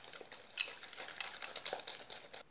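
A spoon stirs flour into a thick accras batter in a bowl, with steady rhythmic clinks and soft scraping against the bowl, close up and without voices.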